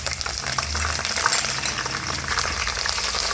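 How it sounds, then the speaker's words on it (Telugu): Curry leaves frying with browned onions in a pan for a fish curry, a steady, close bubbling sizzle that holds evenly throughout with no talk. "కరివేపాకు వేసుకొని ఇలా ఒకసారి ఇలా ఫ్రై చేయాలి"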